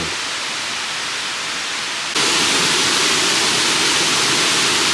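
Hok Sai waterfall at Khao Chamao, Rayong, with water roaring steadily as a broadband rush that swells louder partway through, close and continuous with no voices.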